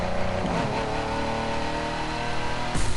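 A car engine echoes in a tunnel as the driver changes down a gear, the mid-pitched drone dipping and then rising in revs near the end, with no talking.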